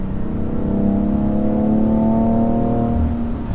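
The turbocharged engine of a BMW M3 pulls steadily under acceleration, a loud continuous drone with a slowly rising pitch heard from inside the car.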